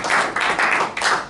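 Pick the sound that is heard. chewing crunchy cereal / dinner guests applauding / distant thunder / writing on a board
dinner guests applauding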